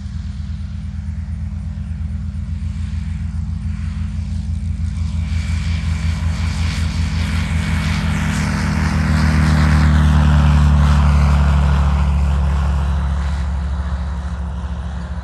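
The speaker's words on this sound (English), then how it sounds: "Whoa, that new Rotax 915 turbo is really quiet, right?" A SuperSTOL aircraft with a Rotax 915 turbo engine in flight, a close, loud, steady propeller drone with a low harmonic hum that swells slightly midway, no voices.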